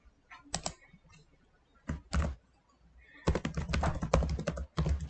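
Computer keyboard keys tapped in short bursts while a password is entered to log in to Roblox, with clicky keystrokes close up, brief pauses between groups, and a dense flurry of typing near the end.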